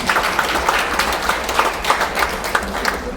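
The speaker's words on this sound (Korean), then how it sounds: "박수 부탁드립니다." An audience at a memoir book launch in the National Assembly Museum claps steadily, a full, even wash of many hands with occasional louder individual claps standing out, continuing without pause.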